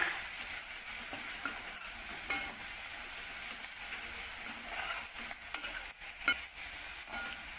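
Garam masala, coriander powder and turmeric being fried and stirred into a milk-based bhurji in a pan, a loud, steady hiss with scraping stirs throughout and no talking.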